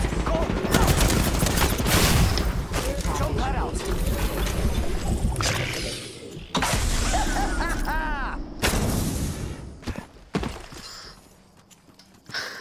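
Heavy gunfire rattles through an Apex Legends match in dense, loud bursts with booming impacts. Voices talk over the shooting before it fades toward the end.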